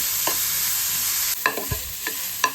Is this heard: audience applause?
no